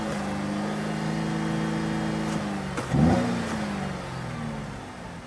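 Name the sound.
Cadillac SRX4 engine revving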